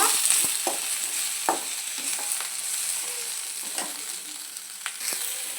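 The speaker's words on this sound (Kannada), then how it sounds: "ಈಗ ಇದನ್ನು 1 ನಿಮಿಷ ಎಣ್ಣೆಯಲ್ಲಿ ಫ್ರೈ ಮಾಡ್ಕೋಬೇಕು." Ingredients for an egg and chicken sambar fry in oil in a pan with a soft, continuous sizzle, broken by light scraping clicks of a spatula stirring now and then.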